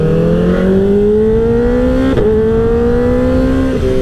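A 2024 Kawasaki ZX-4RR sport motorcycle engine screams steadily at high revs, pitch climbing slowly with a brief blip midway, loud and close with no voices.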